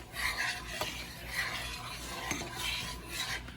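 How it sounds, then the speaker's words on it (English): A spoon stirs rice in a pot of boiling water on the stove, giving steady close scraping and swishing strokes with light clinks against the metal over a bubbling background. "Just going to stir it a little."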